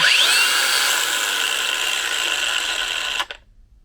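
A Bauer brushless angle grinder from Harbor Freight, fitted with a wheel, whines steadily at high speed up close, then its brake stops it abruptly near the end, leaving near silence.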